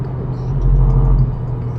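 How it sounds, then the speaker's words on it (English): A 2023 GAC Empow 1.5T sedan with a dual-clutch gearbox accelerates in eco mode, its engine giving a steady low rumble that swells briefly and then eases, heard close from inside the car. "let's do a little acceleration. And you can hear the car sounds great."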